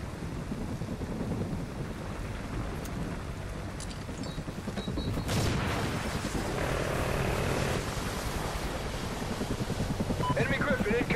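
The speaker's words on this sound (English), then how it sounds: "Friendly chopper inbound." A friendly helicopter in Call of Duty thumps steadily with rapid rotor chop under game noise, growing louder midway, with a voice over it.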